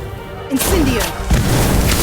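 Incarcerate-style spell in a Harry Potter game gives way to an Incendio fire spell: a sudden whooshing burst with a bright crackle, followed by a second thump, short and loud over busy game noise.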